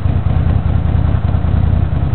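A 1982 Honda GL500 motorcycle engine idles after a tune-up with synchronized carburetors, a steady close, loud rumbling putter that stays even throughout.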